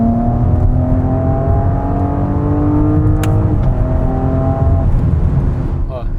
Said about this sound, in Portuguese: Então a gente já escuta o ronco, ó.